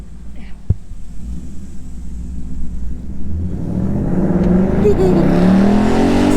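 A 2017 Ford Mustang GT with GT350 conversion rumbles and then climbs into a rising, revving acceleration that grows louder toward the end, with a sharp knock near the start.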